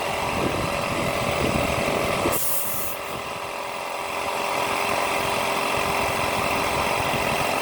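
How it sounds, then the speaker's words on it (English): An air compressor runs in a steady, loud drone during tire plugging work, with a brief sharp hiss of released air partway through before the motor's hum continues. "I got 50 pounds in my compressor."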